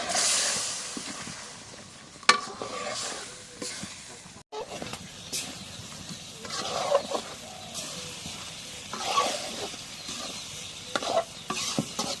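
Hilsa fish pieces dropped into hot, spiced cooking oil give a loud, bright sizzling hiss that shifts and settles, mixed with stirring scrapes close by; a faint voice is heard in the background.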